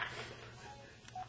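A single short touch-tone keypad beep sounds near the end as a number is entered on a phone, faint over a steady low line hum.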